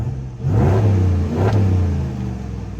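A 2022 Ram 1500 Rebel G/T with its stock exhaust revs up in two quick swells from idle, the close, throaty engine note rising and falling before it settles back to a steady rumble.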